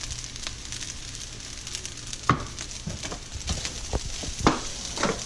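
Food sizzles steadily in a hot pan while a utensil scrapes and knocks through it, the stirring strokes growing busier toward the end, all close up with no talking.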